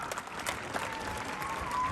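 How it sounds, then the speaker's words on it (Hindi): A crowd at a stallion ring horse show claps in sustained, moderately distant applause, a busy patter of hands holding steady with a faint tonal hum running beneath it. "जोरदार तालियां।"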